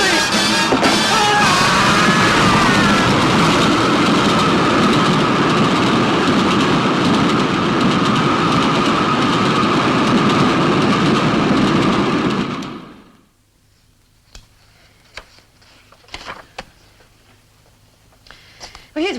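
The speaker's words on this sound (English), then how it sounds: "There's a train coming!" A train passes close by with a loud, sustained roar and rattling wheels for about twelve seconds, then cuts off abruptly, leaving near silence broken by a few faint knocks.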